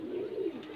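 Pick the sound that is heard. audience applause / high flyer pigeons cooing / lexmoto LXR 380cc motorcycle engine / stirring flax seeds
high flyer pigeons cooing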